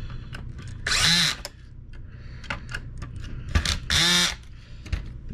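A power drill tightens the motor screws on a Kenmore Progressive canister vacuum cleaner, giving two short, loud whirring bursts with small clicks and handling noises in between.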